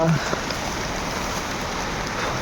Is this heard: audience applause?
no